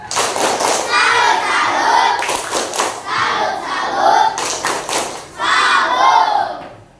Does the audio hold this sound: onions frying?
no